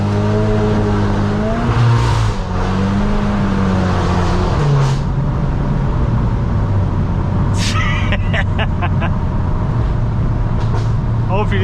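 A Stage 2 tuned VW MK8 Golf R rated at 430PS launches hard, its engine note loud and rising through gears with sharp pops and crackles near the end, while a person talks over the start.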